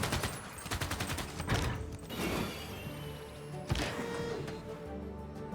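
Artillery fire in the video game Civilization VI, rapid rattling bursts of battle gunfire and mechanical clatter, a sharp impact crack midway, then a lingering rumble.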